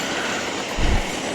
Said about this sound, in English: This is a train shot I got.